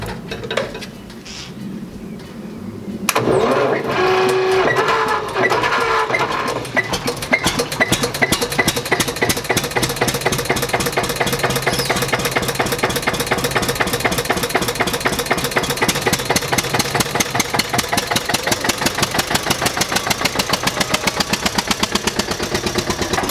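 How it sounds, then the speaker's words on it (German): Eicher EKL15 single-cylinder tractor engine cranks over after a quiet lead-in, then settles into a steady, loud idle with a distinct regular thumping beat, close up and running alone for the rest of the stretch. "jetzt schmeiße ich die Kiste nochmal an, dass das Herz, weil es ist so ein anständiger Einzylinder, anhört"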